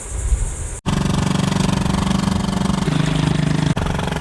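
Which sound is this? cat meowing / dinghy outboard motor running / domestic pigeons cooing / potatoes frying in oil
dinghy outboard motor running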